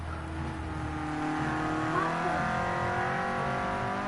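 A Clio Cup race car at Brands Hatch circuit drones past under sustained engine load, the tone rising and shifting slightly as it accelerates, loud and steady through the whole stretch.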